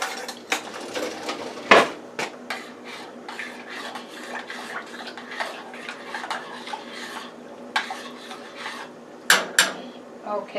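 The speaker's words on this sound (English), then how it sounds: "We're going to stir that up." A spoon stirs stuffing mixture seasoned with poultry seasoning in a bowl, giving repeated scraping and clinking strokes with a few sharper knocks against the bowl, close and fairly loud with no talking.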